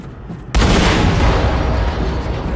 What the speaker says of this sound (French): Achtung, Explosion in der Hangarboot.